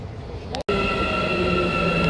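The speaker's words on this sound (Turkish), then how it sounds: "3 saniyeliğine metroya bindik bir durak için." Loud, steady rumble of an Istanbul metro train in motion, with a sustained whine and humming tones, briefly cut by a short gap.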